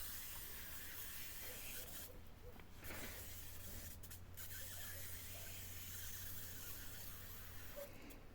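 A garden sprayer hisses steadily over a cucumber vegetable garden, a close, continuous spray with a few short breaks where it cuts out briefly before resuming.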